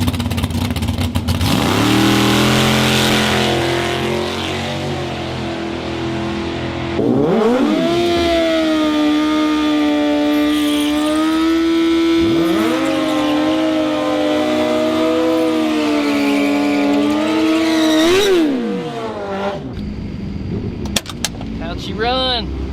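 A ProCharged Ford Foxbody Mustang drag car does a short burnout and then a full drag strip pass at a 10.5 event, the supercharged engine revving hard and climbing through gears with clear shifts, loud and close before cutting off near the end.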